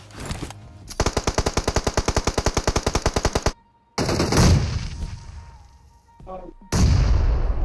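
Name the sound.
gunfire and explosions in a video game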